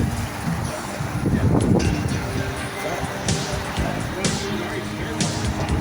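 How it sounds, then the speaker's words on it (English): Steady outdoor wind rush in Roanoke, Virginia, with gusty buffeting against the microphone, broadband and fairly loud, occasional bumps and faint background noise throughout. "You can see now it is windy."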